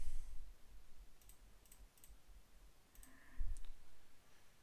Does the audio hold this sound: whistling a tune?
no